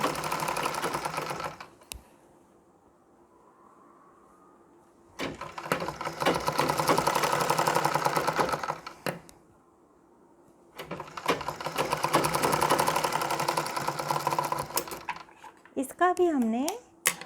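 Sewing machine stitching the waist part of a Nauvari saree in three long, steady whirring runs with brief pauses between them, close by. Someone talks during the pauses.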